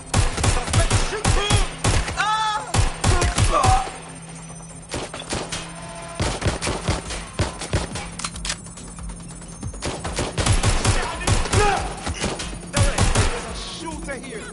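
Rapid bursts of gunfire in a PS4 video game, loud and close, firing in repeated clusters with short gaps between them, and voices speaking in the pauses.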